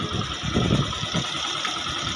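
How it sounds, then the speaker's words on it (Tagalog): A Yamaha YTX 125 motorcycle engine idles steadily nearby, a continuous low rumble with slight uneven pulsing and no voices. "sakto lang naman yung tining ng makina para sa akin"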